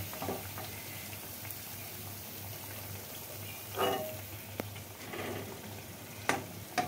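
Dry fruit malpua made with egg and banana fry in oil, a quiet, steady sizzle close by with a few faint clicks and bubbling bursts.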